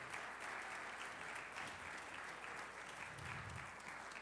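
Sustained applause from an event audience at a Dr. Martin Luther King Jr. Day celebration, steady and even throughout for the performers, a dense wash of many hands clapping at moderate distance with no talking over it.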